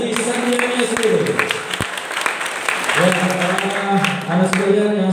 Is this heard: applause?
yes